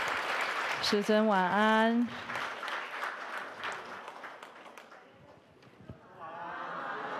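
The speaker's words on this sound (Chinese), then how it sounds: "我们也以热烈的掌声感恩师尊的大加持" Scattered applause from a congregation thanking their teacher at a Buddhist sutra lecture. It comes as a patter of claps after a short spoken line and fades toward the end, with voices around it.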